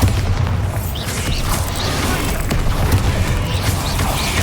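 A Bombarda explosion spell cast in Hogwarts Legacy, a loud, sustained rumbling boom with crackling debris and mechanical creaks under constant game ambience.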